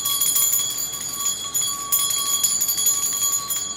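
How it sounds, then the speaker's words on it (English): A small handheld bell rings with bright, high metallic tones, struck repeatedly in quick succession so the ringing overlaps and sustains, close and clear without talk. "have my little bell here"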